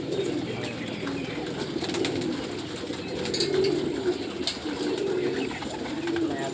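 Pigeons coo in a low, steady, rolling chorus throughout, close and continuous, with faint rustles and chirps above.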